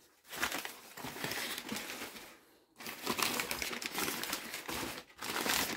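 Wrapping paper crinkling and rustling while a Rituals gift set is unpacked, close and continuous in two long bursts with a brief pause between, no voices.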